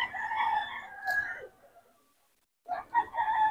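A hatch gray gamefowl rooster, two years old, gives two loud nearby crows separated by a brief silence, with no talk over them.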